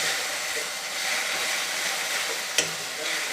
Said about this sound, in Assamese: এয়া ঢাকোনখন উদঙাই আকৌ মই লৰাই ল'ম।